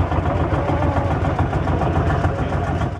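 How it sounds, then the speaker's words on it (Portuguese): Old tractor engines idle at a collectors' gathering of antique tractors, a steady rhythmic chugging that holds at an even moderate loudness with no talk. "o ruído dos motores foi suficiente para atrair curiosos e colecionadores ao redor das peças"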